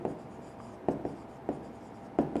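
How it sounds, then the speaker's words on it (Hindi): Marker or chalk writing an answer on a classroom board during a chemistry lecture, a few short scratchy strokes and taps spaced unevenly, close and fairly quiet. "मैं आंसर लिख रहा हूं"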